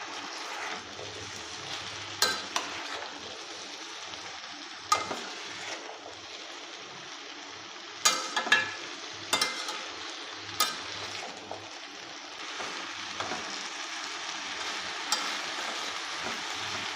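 Malabar spinach fries with pumpkin and potato in a pan, with a steady close sizzle punctuated by irregular scrapes and clinks of a stirring spoon against the pan.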